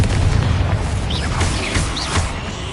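A Confringo spell explodes in Hogwarts Legacy, a loud booming blast with crackling bursts over continuous noisy combat, a few whistling magical tones rising briefly above the din.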